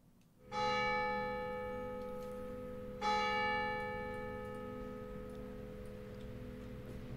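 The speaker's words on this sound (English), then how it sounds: "It's a pretty good bell sound." Two resonant bell strikes a few seconds apart, each ringing out with a long, shimmering decay over a low background hiss.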